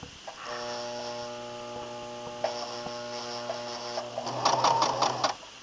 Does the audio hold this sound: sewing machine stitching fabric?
yes